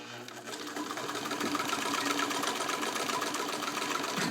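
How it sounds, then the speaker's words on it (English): A Singer 66 Centennial all-metal sewing machine stitches through four layers of denim with a loud, steady, rapid mechanical whir, close and continuous, spinning up after a brief softer start. "Now this machine will sew more quickly than I'm going"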